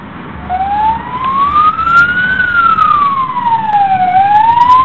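A police car siren wails during a chase through the streets of Wrocław, loud and close, rising and falling in a slow sweeping tone over steady road and engine rumble.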